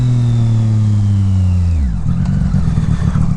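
A 2018 Triumph Street Triple 765 RS three-cylinder motorcycle engine revs up and drops sharply during a rev-matched downshift, then settles into a rough, pulsing idle-like burble, loud and close with no talk.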